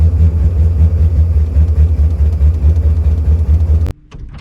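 Up close, a 1967 Morris Minor engine idles loudly in a steady low throb, then cuts off abruptly near the end, leaving faint background noise.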